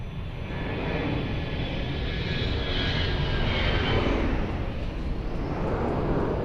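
An Airbus A321 jet departs at Lisbon Airport, a broad, loud engine roar that swells and holds steady from a moderate distance.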